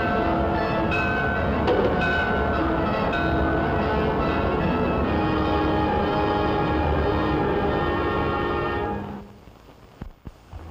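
An electric train roars past at speed with a steady loud rumble and rattle, then fades away leaving near quiet.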